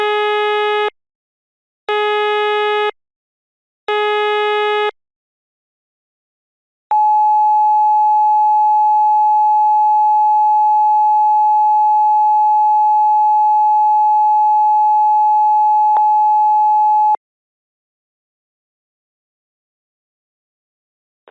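An emergency broadcast alert for a mock national emergency: three loud, harsh electronic bursts, a pause, then a steady piercing tone held for about ten seconds, ending in silence.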